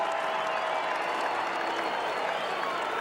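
A large crowd at an AFL match between Carlton and the West Coast Eagles in 2000 applauds and cheers after a goal, a steady dense roar of clapping filling the whole stretch.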